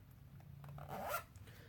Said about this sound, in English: Zipper works good.